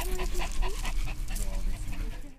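Several young Pomeranian puppies pant rapidly and whimper close by. The breathy, busy panting runs throughout, with high thin whines mixed in.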